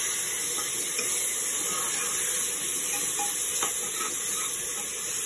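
Grated tomato cooking with ginger garlic paste in a pan gives a steady, close hiss of sizzling that runs without a break, with faint clicks of stirring and no talk.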